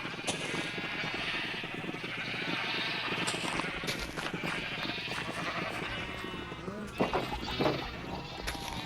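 Many Minecraft sheep bleat over one another in a continuous flock chorus, moderately loud, with a person speaking faintly at times.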